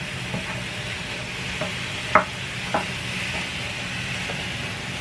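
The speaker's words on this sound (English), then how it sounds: "You'll hear the sizzle." Ground beef sizzles in a Presto electric skillet with a soft, steady frying hiss, broken by a few sharp clicks and scrapes as it is stirred, close and with no voices.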